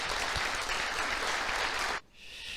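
Dense applause from a church congregation fills the hall, loud and steady, then cuts off abruptly near the end, leaving only a faint hush.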